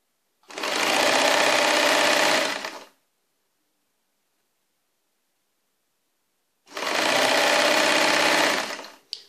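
A sewing machine stitches the front and back panels of an abaya together in two loud, steady runs of about two and a half seconds each, separated by a few seconds of silence.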